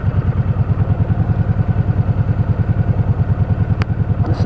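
A motorcycle engine runs close by with a loud, steady, pulsing beat and a slight clatter, continuous throughout with a brief sharp click near the end.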